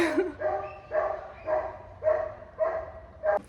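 A single dog barks seven times in a steady rhythm about half a second apart, fairly close and moderately loud, with quiet between barks.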